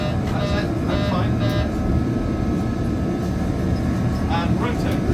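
Boeing 737 flight simulator engines run at full throttle, a loud, steady broadband roar filling the whole stretch while people speak briefly over it.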